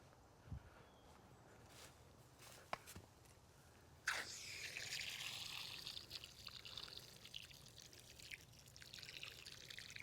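Water pours from a watering hose or can onto newly planted butter crunch lettuce in a garden bed, a steady soft hiss that begins about midway and continues to the end, after a few faint thumps and footsteps.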